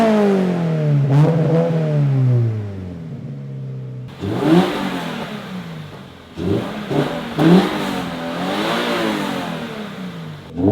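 A Subaru BRZ fitted with an axleback exhaust revs repeatedly, loud rising and falling engine swells with sharp blips and a raspy tone, close and without speech.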